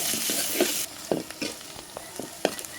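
Chopped onions fry in hot oil with bay leaves in a pan for a duck curry, a bright steady sizzle broken by several sharp scraping stirs of a spoon against the pan.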